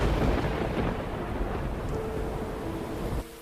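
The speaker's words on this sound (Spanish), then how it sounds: "a lo lejos se oye un trueno" A stormy thunder rumble, loud and broad at first and then easing off, a steady roar that drops away sharply near the end, with no talk.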